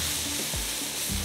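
Fried food is stirred and mixed in a pan, giving a brief, continuous loud sizzle with low scraping sweeps under it.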